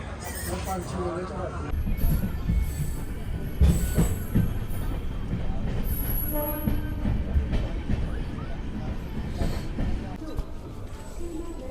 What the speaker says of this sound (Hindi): तो रायवाला के रेलवे स्टेशन पर पहुंच चुकी है ट्रेन